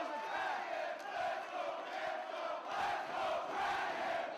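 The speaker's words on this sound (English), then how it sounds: "You hear the crowd" A wrestling crowd chanting in a divided call-and-response between Kenta and Bryan during a Kenta versus Danielson match, a dense, steady roar swelling and dipping in a rhythmic chant pattern with no talk over it.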